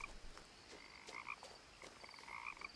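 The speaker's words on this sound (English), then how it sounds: "I think you want the frogs." Frogs croak in the video game What Remains of Edith Finch, a faint chorus of rhythmic chirping croaks repeating at a steady pace with no voices over it.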